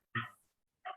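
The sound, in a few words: dogs barking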